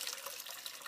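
Water from cooking spaghetti pours out in a brief, steady splashing stream, like a tap running into a sink, heard alone and fairly faint.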